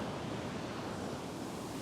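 Ocean waves surging onto a beach shore at a fishing spot, a steady broadband roar of surf with wind noise, continuous and fairly loud with no distinct individual breaks and no talking.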